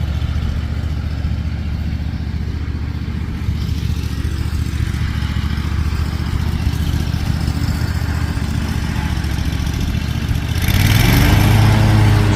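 A lawn mower engine idles low and steady near a building beside a parking lot, a continuous close rumble that swells louder near the end.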